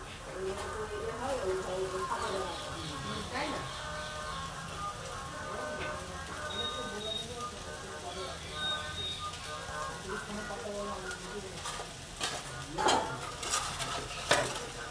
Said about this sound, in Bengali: এই চাউমিনটা এর মধ্যে ঢেলে দেওয়া হচ্ছে